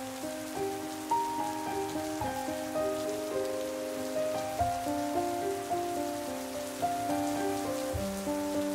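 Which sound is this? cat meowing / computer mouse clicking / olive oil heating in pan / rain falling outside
rain falling outside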